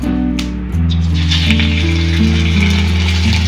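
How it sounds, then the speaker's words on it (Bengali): Marinated boneless chicken fries gently in white oil, a steady soft sizzle under a constant low humming background. "এবার আমি হালকা করে এই সাদা তেলটায় এটাকে ভেজে নেব"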